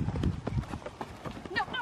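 Hooves of a running horse thud irregularly at close range on the ground, with people talking over them.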